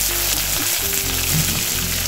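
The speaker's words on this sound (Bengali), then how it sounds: "এবার এতে একে একে দিয়ে দিচ্ছি শিম," Broad beans hit a hot pan with chillies, raising a loud, steady sizzle of frying that runs close and uninterrupted, with no voices.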